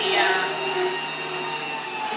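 A juicer grinds wheatgrass with a steady, loud motor whine and a faint grinding texture running throughout, with no talking.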